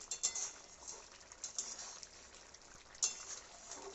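Ghugni, a pea curry with potatoes, stirred in a cooking pan, with a soft sizzle and faint scraping and patter, fairly quiet and close, with occasional sharp clicks of the utensil.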